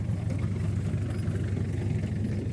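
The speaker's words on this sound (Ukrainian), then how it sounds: "Трактор ледве йде. Ну як, він то йде, але буксує." Tractor engine labouring in a waterlogged, muddy field during early potato planting, a steady low rumbling drone with the wheels slipping, continuous and fairly close throughout with no talk.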